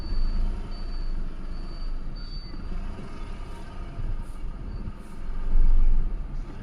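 A Renault Kwid Climber creeps forward slowly from a handbrake stop, its low engine and tyre rumble steady and close, with no voices over it.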